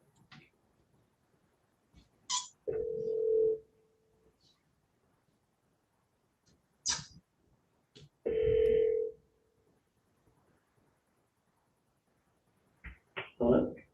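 A telephone call rings out on the line, two long buzzing ring tones separated by a few seconds of quiet, with a few brief clicks and faint noises around them.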